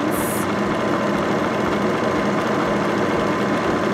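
Steady mechanical hum and whir of a Baby Lock Vibrant sewing machine running continuously while stitching a rolled edge on fabric, loud and close, with no pauses.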